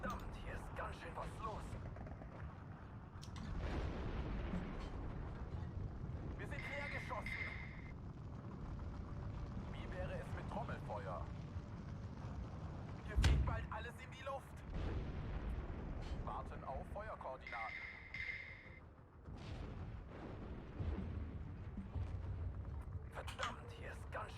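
Artillery fire and incoming counter-battery shelling in a Steel Division 2 battle, with booming blasts scattered across a dense, rumbling battlefield backdrop; a loud close impact stands out partway through, and a voice talks over the action.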